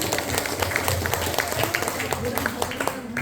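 Audience applause breaking out at a live Indonesian news-casting event, a brief burst of scattered hand-clapping in a room with a voice speaking over it.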